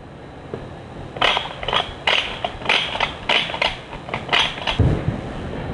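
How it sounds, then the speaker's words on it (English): A clamp is cranked tight to hold a fence against a board for a wall shelf, giving a run of about ten short, evenly spaced ratcheting clicks and creaks, close and moderately loud, with no talk. "my partner then will clamp the fence into position"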